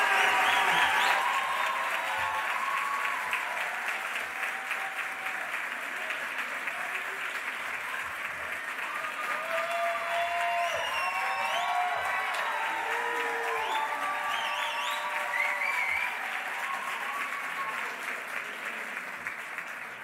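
A crowd at the Les Roches Marbella closing ceremony applauds the graduating class, with sustained clapping and scattered cheers over about twenty seconds.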